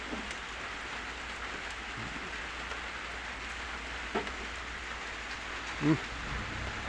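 Rain falling on an open rice paddy field during plowing: a steady, broad wash of drops on the ground, with a couple of brief faint knocks partway through.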